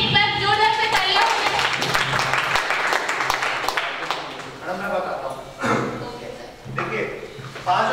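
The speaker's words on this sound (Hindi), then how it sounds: "मधुकर जी के लिए एक बार जोरदार से तालियां।" Audience at a Rajasthani Namkeen distributors' meet bursts into loud, dense clapping that swells, dips and rises again across several seconds, with voices mixed in.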